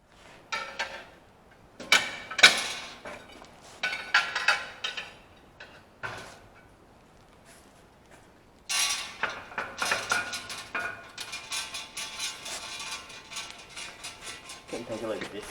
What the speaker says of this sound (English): So I'm going to start taking these bolts right here out.